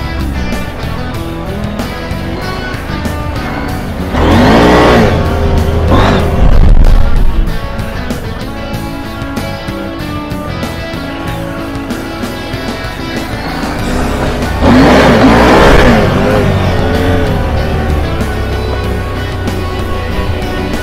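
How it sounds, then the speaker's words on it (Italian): A 2021 KTM 890 Adventure motorcycle revs hard while riding on and off road, its engine droning steadily and swelling into two loud bursts of throttle with the rear wheel sliding. "Intanto è un bel andare, un bello sgasare col posteriore che praticamente si intraversa"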